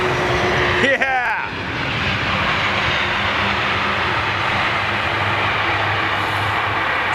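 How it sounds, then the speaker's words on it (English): An Airbus A330 landing at London Heathrow as an early-morning arrival gives a loud, steady jet roar that fills the whole stretch, with a brief sharper transient near the start. "we're just catching some early morning arrivals here at London Heathrow"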